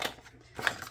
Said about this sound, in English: Oh, the big long scissors.